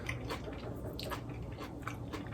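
Crispy chicken skin is bitten and chewed close to the mic, a run of small dry crunches and crackles over a steady low background hum.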